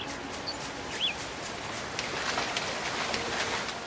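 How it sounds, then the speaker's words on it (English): Outdoor ambience in NieR: Automata with a few brief bird chirps over a steady hiss resembling rain, the calls faint and sparse. "Birds are out and everything."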